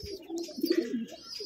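Soft, low cooing from pigeons, a few overlapping rounded calls close by with faint background noise.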